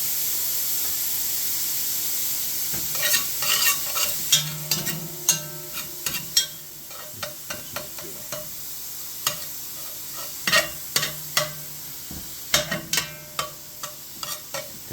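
Half a pound of diced bacon frying for chili, a continuous crackling sizzle punctuated by regular scraping strokes of a spatula across the pan, close and clear, without any talking.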